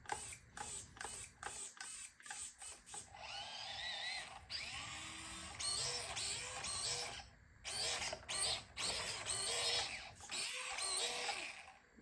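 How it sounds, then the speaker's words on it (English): A tiny servo motor on an Axial SCX24 Bronco RC car whirs in short, repeated high-pitched bursts with brief pauses between them, close up and fairly quiet, with no speech. "Look at that servo."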